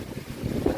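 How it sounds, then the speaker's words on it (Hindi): Gusty wind rushing and buffeting through an open kitchen window during heavy rain, a steady low roar with no voices, close and moderately loud. "देखिए हवा आ रही है मस्त।"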